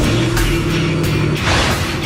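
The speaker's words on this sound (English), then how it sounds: "the sound of a 650 horsepower V8 being fired up." A 650 horsepower Ford Mustang GT500 V8 fires up with a loud, dense low rumble and a couple of sharp bursts as it catches, sustained throughout with no talk.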